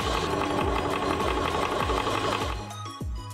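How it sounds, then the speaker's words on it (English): A ToAuto A1 portable PCP air compressor runs close by with a steady, dense mechanical hum and rapid pulsing thumps, fading somewhat toward the end. "One button start. New safety system. Powerful PCP compressor."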